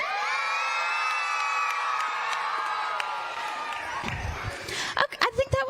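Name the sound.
crowd cheering loudly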